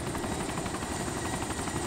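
A helicopter in the video game DayZ, a dense continuous rotor roar with fast rhythmic chopping, loud and close for the whole stretch.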